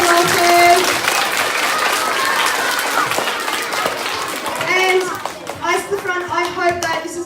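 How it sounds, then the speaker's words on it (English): Audience applause at a college awards ceremony, a steady wash of clapping from a crowd that gradually thins, with voices talking over it. "let's give Brother Shuv and Brother Ahmed a big last clap"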